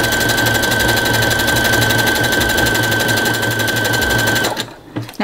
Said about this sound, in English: Now when I'm doing it on my sewing machine